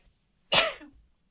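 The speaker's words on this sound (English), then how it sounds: "Wait, I have to sneeze. It's going to be loud." A single loud human sneeze, one sharp close burst that quickly trails off in a short breathy tail, with near silence before and after.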